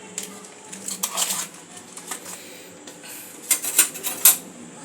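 A spoon scrapes and clinks around a pot of chana dal khichuri, with light irregular taps and scrapes that grow sharper toward the end, close up against a faint kitchen hiss.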